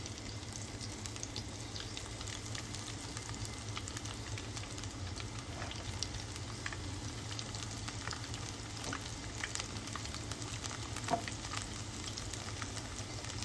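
Onion stalk pakodi batter frying in hot oil, a steady dense sizzle and crackle with occasional pops, close and continuous throughout, with no talk.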